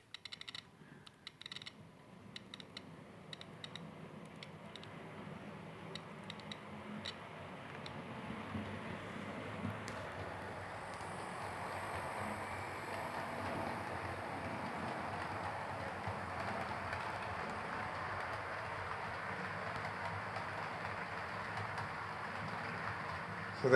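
Model locomotive 3740 on a Digitrax-controlled model railway starts with scattered clicks, then settles into a faint continuous whirring rumble that grows slightly as it runs, with no voices.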